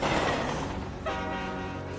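An Atchison, Topeka and Santa Fe Railroad train rumbles with a loud, sustained horn blast that shifts pitch midway, heavy and close with low rail noise beneath.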